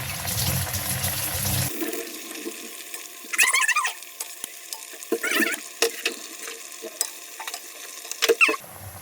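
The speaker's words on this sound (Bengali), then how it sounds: "এখন ভেজে নিচ্ছি অল্প অল্প করে" Palm fruit pitha fry in oil in small batches, a soft close sizzle under a few bursts of scraping and clattering from stirring and turning, after an opening stretch of running water, with no talk.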